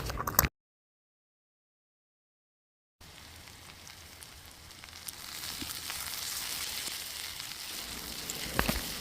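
Crushed ginger and garlic frying in a pan, a faint crackling sizzle that follows a short cut to silence and slowly builds louder, with a couple of sharper pops near the end.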